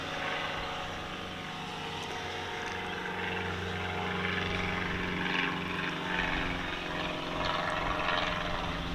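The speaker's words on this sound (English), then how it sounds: "we could have to guess the number of aircraft that go above us" Aircraft passing overhead give a steady, moderately distant engine drone with a low hum that rises slightly toward the end, with no talking.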